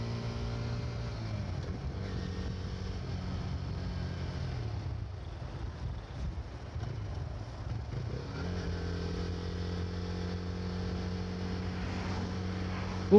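A TVS Raider 125 motorcycle engine and exhaust hum steadily in traffic, giving a deep, full but not loud drone that dips briefly mid-ride and then returns, close and continuous without talk.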